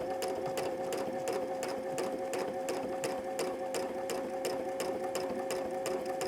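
A sewing machine stitches a quilt with a fast, regular, clattering rhythm that stays loud and close throughout, with no talking over it.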